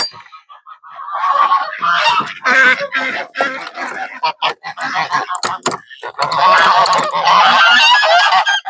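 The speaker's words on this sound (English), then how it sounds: "All right, it's gonna get loud. Let the birdies out." Flock of farm geese honking loudly as they are let out on a hot morning, a dense continuous chorus of close, overlapping honks.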